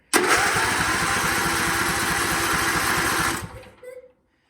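Small engine on a John Deere riding mower cranking over, a steady loud mechanical churn with rapid regular pulses lasting about three seconds before winding down, then a brief faint tail.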